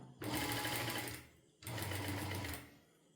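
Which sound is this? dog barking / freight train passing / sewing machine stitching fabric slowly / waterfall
sewing machine stitching fabric slowly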